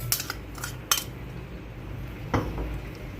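A pot and metal utensils clink and clatter a few times while spices, parsley and coriander are mixed for a conger fish dish, with quick, close, scattered knocks over a quiet kitchen background.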